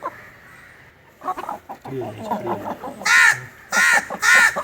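A hen clucks and squawks close by, with several sharp, loud bursts toward the end after softer calls, and a voice talking faintly between them.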